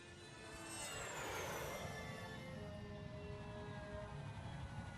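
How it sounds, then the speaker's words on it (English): Jet aircraft engine in the video game Psychonauts: a steady, dense roar that swells in the first second and holds, with a descending whine on top, no voices. "Guess we're taking the jet."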